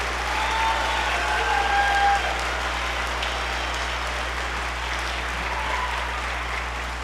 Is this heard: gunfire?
no